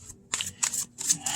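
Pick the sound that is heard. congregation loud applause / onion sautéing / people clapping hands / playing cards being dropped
playing cards being dropped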